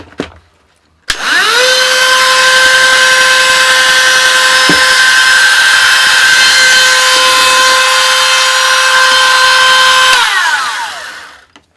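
Hart rotary tool spun up to its highest speed, a loud steady high-pitched whine that rises quickly, holds for about nine seconds and winds down at the end.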